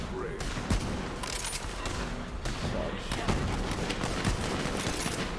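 Heavy gunfire from a Borderlands 3 fight forms a constant dense barrage of shots and blasts, loud and unbroken across the whole stretch.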